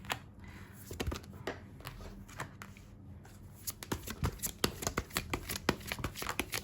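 A deck of tarot cards being shuffled at close range, with a run of crisp riffling clicks and soft slaps that starts sparse and grows denser and louder toward the end, with no talking.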